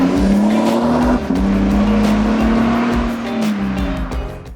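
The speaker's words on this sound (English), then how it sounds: "the additional growl from the TRD catback exhaust should help" Exhaust growl from a 2026 Toyota Sequoia TRD Pro Hybrid with a TRD catback exhaust, rising steadily as the SUV accelerates under load, loud and close, with a brief dip in pitch midway like a gear change.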